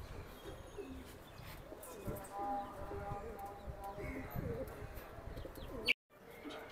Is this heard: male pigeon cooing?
yes